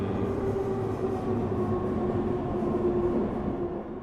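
A train running in a video game gives a steady, loud rumbling roll with a low mechanical drone, continuous and close, fading slightly at the end, with no speech.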